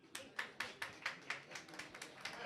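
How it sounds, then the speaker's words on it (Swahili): Applause from a community gathering in Kibra, heard as about a dozen crisp, evenly spaced claps, faint and fairly distant, with no cheering. "Kwanza mpigie CS Mbadi makofi."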